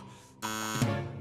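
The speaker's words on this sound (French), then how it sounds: "On devrait vérifier les piles du détecteur de fumée." Smoke detector in an animated firefighter cartoon, a harsh electronic buzzing alarm tone that starts abruptly and sounds loud and close, with no talk.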